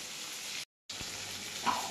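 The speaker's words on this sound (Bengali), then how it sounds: "মাংসটা ভাজা হয়ে গেছে" Chicken meat frying in a pan for a curry, a steady close hiss of sizzling oil cut by a brief silent gap, with a faint stir or clink near the end.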